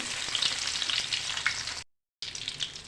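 Mustard seeds, cumin and small shallots sizzle steadily in hot oil for sambar, a dense close frying hiss that cuts out briefly and then resumes.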